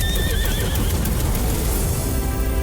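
Loud horse neigh from a Hindi period-film trailer, a long whinny that trails off over a dense, full soundtrack of music and effects.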